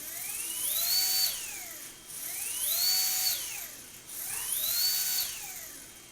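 Whining whir of a drone brushless motor spinning clockwise under ESC control, rising in pitch and falling back three times in steady surges, close and fairly loud with no talk.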